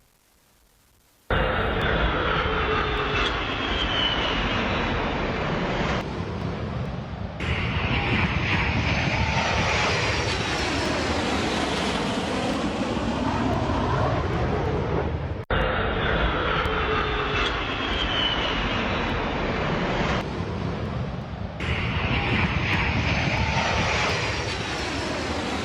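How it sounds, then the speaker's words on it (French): Sukhoi and MiG fighter jets flying over Oran, a loud continuous roar that sweeps and shifts in pitch as the aircraft pass, with a second pass repeating the rushing swell, no talk. "D'abord, les chasseurs Sukhoi, les MiG Sukhoi."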